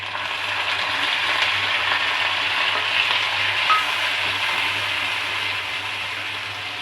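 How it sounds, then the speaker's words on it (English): Chopped onion and green chili sauté in a hot pan with prawn-fry seasoning, giving a loud, steady, close hiss of frying with faint stirring and no voices. "So for 3 to 4 minutes we have to saute this onion"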